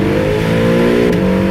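Acura NSX twin-turbo V6 hybrid accelerating hard, a loud, rising engine note climbing steadily in pitch, then a brief break as it shifts and pulls on again, close and without talk.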